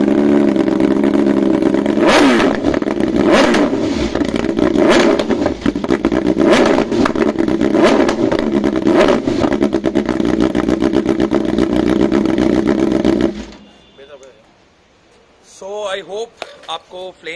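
A 2020 BMW S1000RR M Package with an Arrow full exhaust system revs hard and very loud for about thirteen seconds, repeated throttle blips cracking over the roar, then cuts off and people talk.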